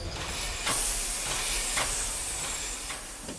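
An old steam locomotive at Longueville near Provins vents a loud, close, continuous hiss of steam, with a few sharper puffs through it and no voices.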